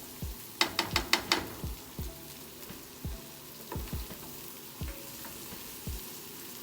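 Food browning in a pan over high heat, with a cluster of sharp clinks early on and then a run of low, regular knocks or taps over a faint, quiet sizzle; no one speaks.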